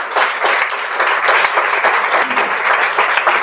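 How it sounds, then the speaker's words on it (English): Sustained applause from a graduation audience at an African Science Academy ceremony, steady dense clapping filling the whole stretch at close, loud level with no talk over it. "Give yourselves a round of applause."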